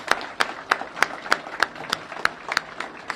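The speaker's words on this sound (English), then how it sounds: "give a big round of applause to all of our patients and all of their caregivers" Sparse audience clapping in a room at a cancer center event, heard as evenly spaced, distinct hand claps about three per second, moderately loud and without a dense crowd roar.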